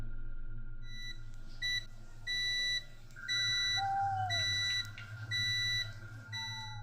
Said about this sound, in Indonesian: dibangunkan oleh suara meteran listrik yang berbunyi karena pulsa tersebut kian habis